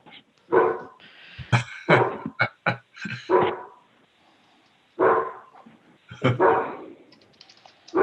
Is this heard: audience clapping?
no